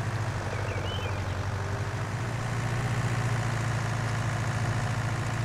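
A tractor engine in Farming Simulator 19 rumbles at a steady low idle, a continuous deep throbbing drone that stays even and close throughout the short stretch.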